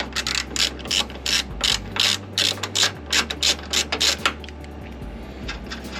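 Ratchet wrench turning a bolt while removing air suspension, a loud close run of rhythmic pawl clicks at a steady pace, slowing slightly toward the end, over a low engine-like hum.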